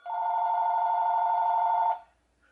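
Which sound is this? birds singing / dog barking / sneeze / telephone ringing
telephone ringing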